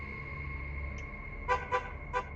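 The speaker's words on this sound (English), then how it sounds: "At the end of the video, there is an unexplained honk." A car parked in a driveway sounds its horn three short times near the end. The honks come over a quiet, humming background at moderate distance, each one a brief toot with a gap before the next.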